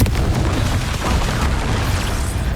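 Confringo fire spell blasts in the Hogwarts Legacy video game, a dense, loud rumbling burst of booming explosion noise filling the whole short stretch, with no pauses and no speech.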